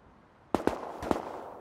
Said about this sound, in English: He's shooting somebody else.